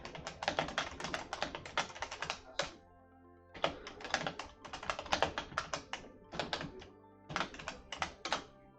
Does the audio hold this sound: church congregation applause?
no